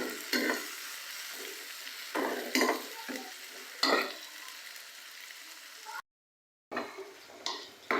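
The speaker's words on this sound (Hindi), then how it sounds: "मिक्स करेंगे मसालों को अच्छी तरह से।" Turmeric, salt and red chili powder being stirred in a frying pan for masala bhindi, giving repeated scraping strokes over a steady close sizzle, with a brief silent gap near the end.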